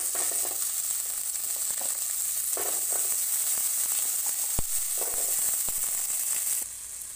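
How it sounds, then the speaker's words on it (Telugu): Green chillies frying in a pan of oil for paneer butter chole masala, a steady broadband sizzle with occasional pops and crackles, one sharp snap near the end, no talking. "ఇది ఇప్పుడు మనం అందులో వేసి కొంచెం ఫ్రై చేసుకుందాం."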